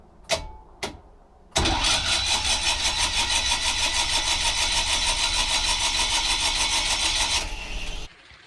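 A boat's diesel engine: two brief clicks, then a loud, close, rhythmic cranking churn that runs steadily for about six seconds before cutting off abruptly.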